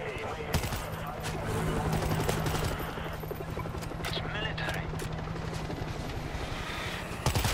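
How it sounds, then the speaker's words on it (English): A helicopter in the zombie shooter World War Z: Aftermath, its steady rotor drone buried under dense, continuous gunfire and bursts of voices. "Is that a helicopter?"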